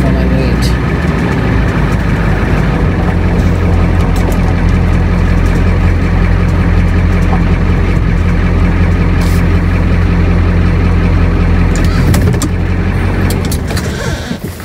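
A school bus converted into a skoolie idles in a queue on a rainy day, its engine giving a loud, steady low rumble that runs unbroken and close throughout.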